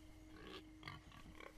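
A few short, soft pig grunts come in quick succession, quiet and close, with no talking, from pigs in Minecraft: Story Mode.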